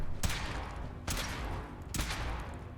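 A weapon fires in Fallout 4, three loud sharp blasts spaced about a second apart, each with a short decaying tail over a steady background hum.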